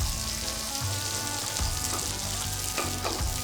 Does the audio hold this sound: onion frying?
yes